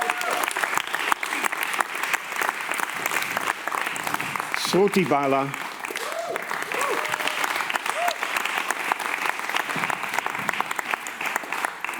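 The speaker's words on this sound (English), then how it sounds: "yes, you may applaud." An audience claps steadily as speakers are introduced onto a stage at a cultural event, the dense applause running the whole time beneath a presenter's voice calling out names.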